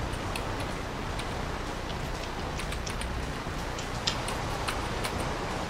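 Rain in the video game Minecraft, a continuous dense patter with scattered sharper drip ticks, steady and moderately faint, with no voices.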